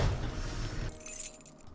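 Keys jangle briefly in a Nancy Drew adventure game, a loud metallic rattle for about a second that cuts off abruptly, followed by quieter game ambience.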